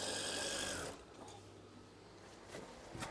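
A sewing machine stitching curtain fabric runs with a steady loud whirring buzz for about a second, then stops, leaving quiet handling rustles and small clicks.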